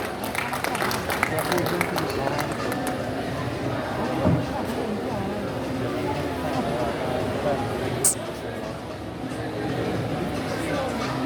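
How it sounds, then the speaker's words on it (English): Audience applause for a presenter at a NIMASA special event, a steady wash of clapping from a large crowd that carries on for several seconds, with murmured voices and scattered noise mixed in. "A round of applause for him, please."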